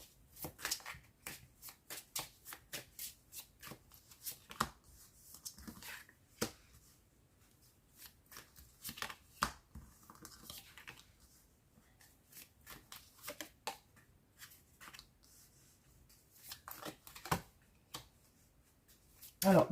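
Tarot cards shuffled by hand in a quiet room, a long run of soft riffling bursts and light slaps that come in repeated waves, close and fairly faint, with a voice occasionally speaking in the background.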